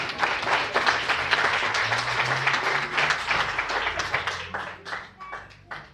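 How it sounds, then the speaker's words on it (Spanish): A church congregation claps for the Lord at a Spanish-language sermon, a dense, steady wash of many hands that carries on for several seconds and thins slightly toward the end, with a low murmur of voices underneath. "Den un aplauso al Señor por eso, amén."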